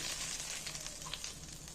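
Hot Kashmiri red chili oil tempering is poured into a moong dal and spinach tarka, giving a soft, fairly faint hiss of sizzling that holds steady for a moment.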